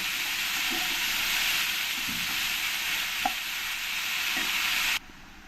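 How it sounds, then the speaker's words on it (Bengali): Red amaranth greens fried together with mango in a pan give a steady, close sizzle, with a few soft scrapes of stirring spread through it, then the sound cuts off near the end. "শাকটাকে ভালো করে আমি এই আমের সঙ্গে মিশিয়ে একটু ভেজে নেব"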